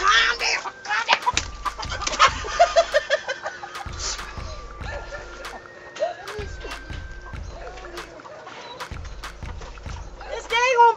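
Chickens cluck and squawk close by in a small enclosure, with excited bursts and wing flutters, while a person talks over them and rhythmic low thumps repeat underneath.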